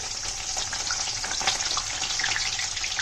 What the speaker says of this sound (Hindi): तो मैं अभी करूँगी अपने कटहल को फ्राई।